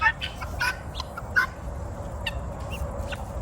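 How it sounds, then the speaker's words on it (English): Large turkeys cluck and gobble in short bursts close by, over a low rumble of outdoor background noise. "Look how big these turkeys are, man."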